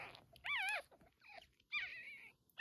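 Newborn puppies, just delivered by emergency C-section, whimper and squeal in several high, wavering cries separated by short pauses, faint and close by.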